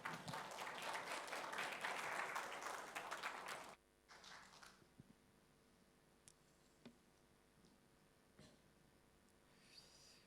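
A church congregation at a Korean Sunday worship service applauds warmly as the pastor comes forward, a dense burst of clapping that stops abruptly, followed by quiet room sound with faint scattered taps.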